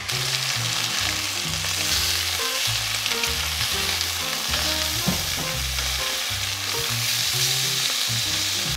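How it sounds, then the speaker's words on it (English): Meat searing in a pot over high heat, heard as a loud, steady sizzle that runs the whole time, broken by the scrape and stir of a utensil against the pot, with no voices. "for the searing process, the heat is on high"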